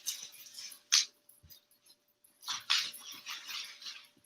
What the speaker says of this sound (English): And donation puppy.